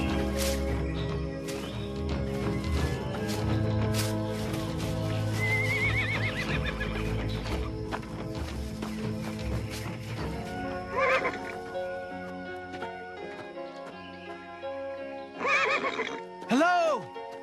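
Horses whinny in a desert-adventure film scene, several long neighs ringing out over a steady music bed, with sharper, louder calls near the end.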